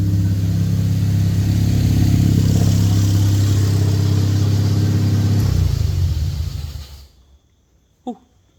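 A car engine idles steadily while warming up before an oil change, a loud, close low rumble with a deep even throb that fades out near the end, followed by a brief click.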